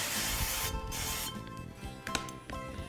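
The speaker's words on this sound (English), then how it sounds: "Spray the pan again with some extra virgin" Extra virgin olive oil sprayed onto a pan: a hissing spray at the start, then a few shorter spritzes and light rubbing noises close by.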